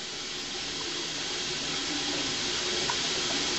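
A Semitool 870S spin rinser dryer runs a water rinse at 500 RPM, producing a steady, dense broadband hiss of spraying water that stays even and fairly loud throughout, with no voices.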